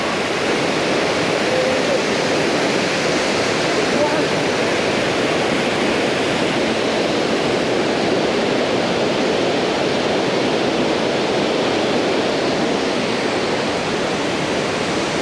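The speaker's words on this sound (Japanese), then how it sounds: "千住滝。" Senju waterfall at Akame 48 Falls roars as a steady, loud, broadband rush of falling water that stays unchanged throughout with no voices.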